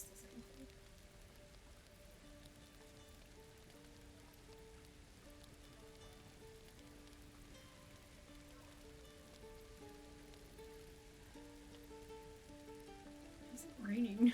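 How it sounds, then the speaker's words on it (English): Rain patters steadily on a surface throughout, a soft continuous hiss under a quiet sustained musical drone, with a few louder bumps near the end. "Is it raining? It's so loud."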